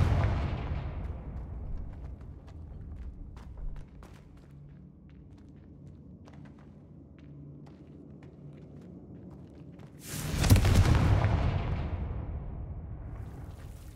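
Spell explosions from the Confringo curse in the Hogwarts Legacy video game: one loud, sharp blast near the end bursts out and rumbles away, after a quieter stretch of low booms and scattered footsteps.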